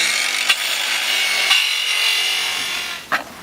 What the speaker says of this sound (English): So is that like sawing through wood